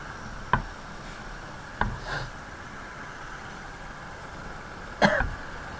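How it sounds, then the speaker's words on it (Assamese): Three short, sharp coughs from a person with a cold, spaced apart over a quiet background hum, fairly close, with no talking. "কাহ হৈ আছে পূৰা ঠাণ্ডা হৈ গৈছে"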